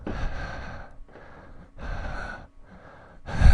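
A voice imitates a low breathing sound heard on a Skype call: slow, breathy inhales and exhales in four or five even cycles, close and fairly quiet, ending on a sharper, louder breath.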